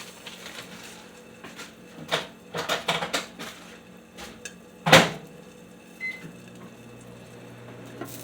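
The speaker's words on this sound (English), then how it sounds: "I'm going to throw my biscuit in the microwave." A microwave oven heating a sausage biscuit hums steadily with clicks and clunks of handling around it, including a sharp beep near the middle, then a low running drone.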